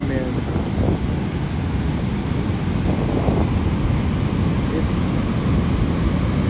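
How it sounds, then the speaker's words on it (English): Big waves breaking against a lighthouse and harbour break where boats come in, a steady loud roar of surf mixed with gusting wind buffeting the microphone throughout. "the waves hitting the lighthouse or the break over here are just nuts"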